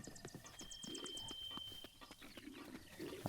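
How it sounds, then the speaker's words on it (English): Bird calls and chirps in The Legend of Zelda: Breath of the Wild, quick repeated chirps over a steady busy ambient bed with rhythmic clopping-like thuds, moderately loud and continuous. "Bird noises."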